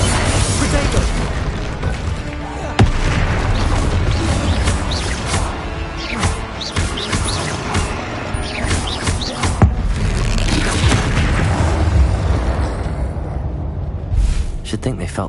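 Heavy, continuous spell blasts from Bombarda and Confringo in the Hogwarts Legacy game, loud booms and sharp bursts recurring every few seconds amid battle noise, with a voice shouting over the fight.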